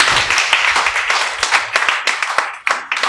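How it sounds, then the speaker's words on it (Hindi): An audience at a motivational talk claps for a few seconds. Distinct, fairly loud hand claps come in an uneven patter rather than a thick roar, then thin out toward the end. "एक बार उनके लिए भी जोरदार तालियां बजाएं।"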